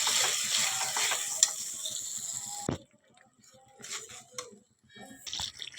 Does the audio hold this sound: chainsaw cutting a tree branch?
no